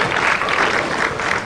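A crowd at the 2004 AMF World Cup ladies bowling tournament claps steadily and fairly loudly in an even wash of applause, with no talk over it.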